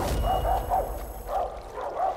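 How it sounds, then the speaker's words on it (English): A dog barks repeatedly in Far Cry 5, a string of about six sharp barks at a moderate distance over a low game ambience. "That's a dog barking at me."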